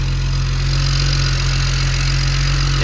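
A BMW 335xi with a 6266 turbo runs steadily, giving a loud, constant engine drone with a strong low hum and broad hiss. No voices.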